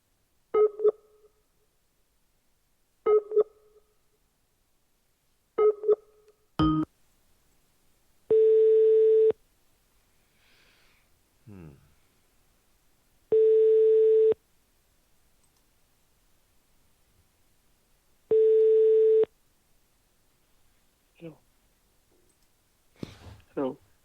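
Telephone line sounds from an outgoing call: three short bursts of touch-tone dialing, a lone click, then three long steady ringback tones separated by silence, with brief faint voice fragments between them.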